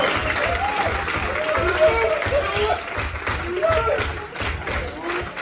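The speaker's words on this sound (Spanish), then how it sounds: "el aplauso grande para todas las nueve parejas participantes" A crowd applauds the nine competing couples on the first night of the World Cueca Championship in Pamplona, a steady wash of clapping with low thuds underneath while a voice talks over it throughout.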